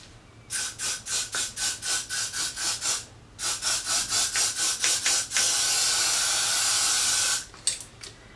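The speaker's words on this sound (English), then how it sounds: "I'm just going to spray right on top of the gel" Rapid bursts of hairspray hiss in quick pulses, about ten in a row, then another series, followed by one long continuous spray and a few short puffs, sprayed onto gel on a synthetic lace wig.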